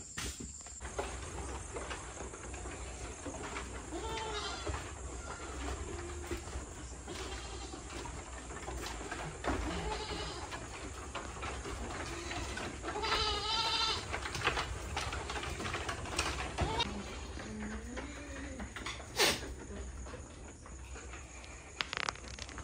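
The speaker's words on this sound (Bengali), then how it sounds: "নাইট শেল্টারে চলে এসেছে ছাগলগুলো" Goats bleat repeatedly inside a night shelter on a West Bengal goat farm, with steady insect and cricket chirring running underneath throughout.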